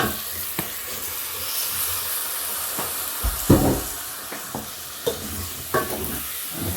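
Washed rice tipped into a hot pot of pilau base and mixed, giving a low sizzle and hiss with a few distinct scraping stirs and soft thumps of the spoon, close by.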